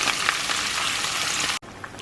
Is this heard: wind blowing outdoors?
no